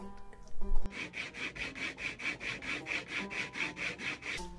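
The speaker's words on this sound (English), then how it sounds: "I quickly dressed the fret ends and beveled them." Electric guitar converted from a lap steel having its fret ends filed and beveled, a close, steady rasping with about fifteen even back-and-forth strokes after a brief clatter at the start.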